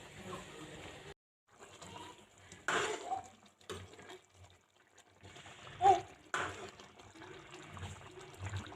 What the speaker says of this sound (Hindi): मैं इसमें थोड़ा सा पानी ऐड कर रही हूँ